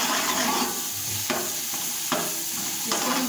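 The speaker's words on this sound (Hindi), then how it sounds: "अब हम इसमें थोड़ा सा पानी ऐड करेंगे। इसके साथ ही इसमें लहसुन अदरक का पेस्ट और ये गरम मसाले शामिल कर देंगे।" Browned onions frying in a pan as water, garlic-ginger paste and garam masala go in for a mutton yakhni pulao: a steady close sizzle with several sharp stirring scrapes, and no talking.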